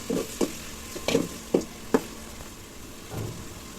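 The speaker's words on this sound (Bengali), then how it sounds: "পেঁয়াজ কুচি ভালোভাবে একটু নেড়ে ছেড়ে ভেজে নিব" Chopped onions frying in oil with bay leaf, cinnamon and cardamom in a pot, a quiet sizzle broken by five or six short scraping stirs of a spoon, then a softer final stir.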